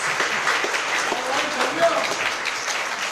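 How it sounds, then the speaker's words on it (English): An audience at an overseas Taiwanese community banquet in Hawaii claps for President Lai, making a dense, steady wash of applause that stays moderately loud throughout with no clear speech. "Now, please give a round of applause"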